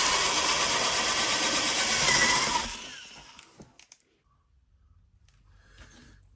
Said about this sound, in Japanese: 板にボルトネジを通す直径5ミリの穴を開けます。